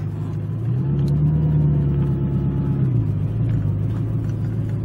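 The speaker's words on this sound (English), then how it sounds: "pump the clutch and hope that the car works" A supercar with a troublesome clutch sits in gridlocked Paris traffic. Its engine holds a steady low rumble, swells briefly in pitch midway, then settles back to an even drone.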